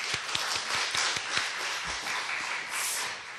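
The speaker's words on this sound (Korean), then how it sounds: "주님께 감사 박수" Church congregation applauding, a roomful of scattered claps and taps under a broad reverberant wash, fairly even and continuous for a few seconds with little talk.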